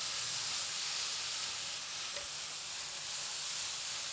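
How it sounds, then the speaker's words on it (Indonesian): Chopped tomatoes sauté in a hot pan for baingan bharta, giving a continuous close sizzle and hiss with faint stirring, and no voices over it. "sekarang saya akan memasukkan tomatnya. Lalu kita tumis kembali."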